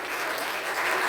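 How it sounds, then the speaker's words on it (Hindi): Loud, dense applause from an audience at a public event, steady and continuous throughout the short moment with no gaps. "जोरदार तालियां बजाएं एक बार"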